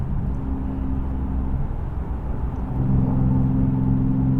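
A Nissan 370Z Nismo with a Fast Intentions exhaust cruises in fifth gear around 2,800 RPM, making a low, steady growl and drone from inside the car, swelling slightly toward the end, with no voices.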